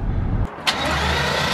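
A Dodge Durango Hellcat engine gives a short, loud blip and rev on a cold, wet night. A low rumble cuts off, then a sharp rise sets in and holds, all within under two seconds, close and with no talk.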